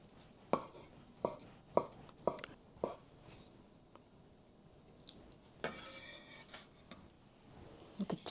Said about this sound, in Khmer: ឥឡូវខ្ញុំចាប់ផ្ដើមហាន់ផ្សិតក្រៀម